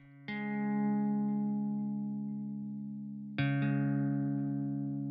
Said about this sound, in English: Free amp sim plugin.